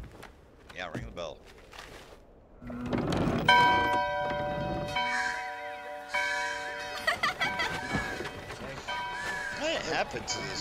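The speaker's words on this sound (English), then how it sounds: "ring the bell" A bell rings in Diablo IV, its sustained metallic tone sounding repeatedly over several seconds amid footsteps and other in-game sounds in a village.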